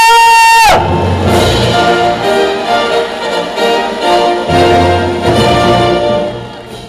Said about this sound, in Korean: 참가하신 분들의 힘찬 박수와 함성으로 시작하겠습니다